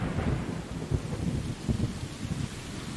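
A thunderstorm with steady rain in the video game Stray: a constant hiss of rainfall under low, rolling rumbles of thunder that swell and recede, with no voices.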